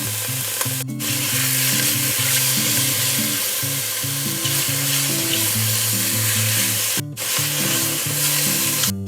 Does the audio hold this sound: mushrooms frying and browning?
yes